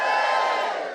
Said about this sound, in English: Give me a cheer if you've got a smartphone.